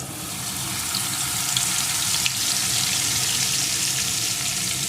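Crushed garlic cloves, whole garam masala and a bay leaf frying in hot oil, giving a loud, even, continuous sizzle close by with faint crackles and no talking.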